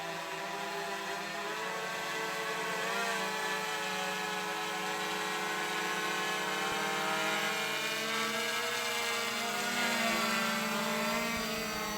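A small toy quadcopter drone, one of a ZLRC Beast, SJRC F11 or MJX Bugs 4, hovers with a continuous high, whining propeller buzz that rises and falls slightly, steady and fairly close for the whole stretch, with no talk.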